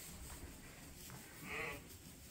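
A sheep in a barn gives one brief, faint bleat midway through, set against a steady low background hum of the shed during lambing season.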